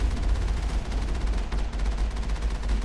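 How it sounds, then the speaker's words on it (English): Mako tank cannon fire in Mass Effect: a constant, heavy rumble with repeated booming thumps, loud and close, and no speech over it. "Usually it's just a couple cannon blasts to kill these big things"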